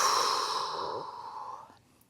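A long, close, breathy exhale while folding forward over the left leg in a morning stretch, loud at first and gradually fading over about two seconds, ending with a faint click and no talk.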